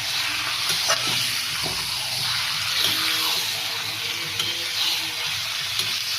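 Chicken pieces frying with onions in a pan, a dense, steady sizzle with stirring scrapes and occasional sharp crackles, close and fairly loud, no talking.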